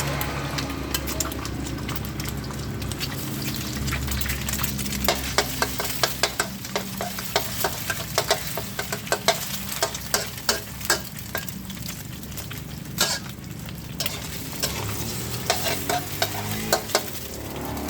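Egg stir-fried in a hot pan for a Thai bitter melon and egg dish, with a steady loud sizzle and frequent sharp scraping clicks of a spatula stirring against the pan.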